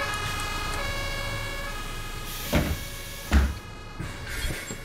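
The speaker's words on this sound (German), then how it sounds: "Rettungswagen, okay." An ambulance siren in the Omsi 2 bus simulator game wails steadily with sustained tonal pitch, accompanied by a few dull thumps from the bus, no talking.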